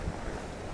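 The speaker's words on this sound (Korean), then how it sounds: "여기 파도가 엄청납니다, 엄청나." Surf breaking against the shore near the Dokdo islets, a steady broadband wash of churning water mixed with buffeting wind noise on the microphone, loud and continuous throughout the short stretch.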